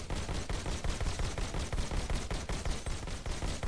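Rapid automatic gunfire on a shooting range in the VR game Robo Recall, a dense stream of sharp shots in quick even succession, loud and without talk.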